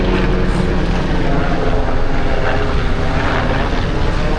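A helicopter roars loud and close overhead as a continuous, powerful engine and rotor drone that holds steady throughout.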